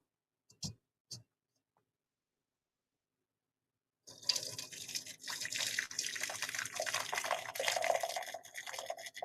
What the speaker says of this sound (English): I made sure to get the saucepan that actually has spouts to it, so it's easier to pour.